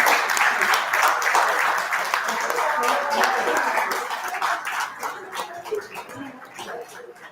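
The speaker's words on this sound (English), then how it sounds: "One more round of applause for the family." A congregation at a christening service at a spiritual living centre gives a round of applause for the family, loud clapping that gradually thins and fades over several seconds, with voices and a dog audible beneath.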